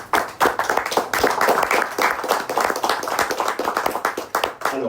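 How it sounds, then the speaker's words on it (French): An audience in Paris applauds guests at a film event: a crowd of people clapping, loud and rhythmic with distinct hand claps, steady throughout before tapering at the end. "On peut les applaudir."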